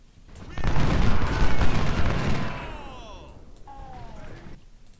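Massed musket volleys crackle in Ultimate General: Civil War at the Battle of Gettysburg, a loud dense burst of overlapping shots lasting about two seconds before tapering into scattered distant pops.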